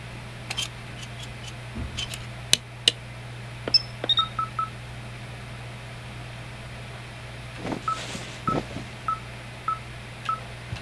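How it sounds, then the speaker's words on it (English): Electronic beeping from a wave receiver device in the Firewatch video game, a series of short, sharp tones in irregular bursts over a low steady hum, with quieter repeated pips near the end. "Follow the beeping device."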